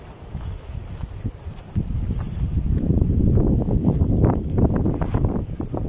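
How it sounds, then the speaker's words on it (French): Strong wind buffets the microphone by a lake in a Normandy bird reserve, rising and staying loud after a quieter start, with rustling and splashing water textures underneath. "il y a beaucoup de vent, l'eau bouge énormément."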